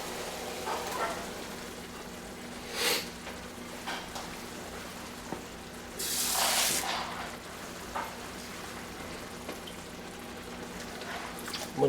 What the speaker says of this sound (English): Time to add my tomatoes.